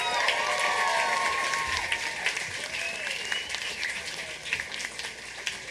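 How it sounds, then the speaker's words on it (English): Concert crowd at a show at Crowbar gives sustained applause with whoops and cheers, loud and dense throughout, fading slightly toward the end. "so please give them a round of applause."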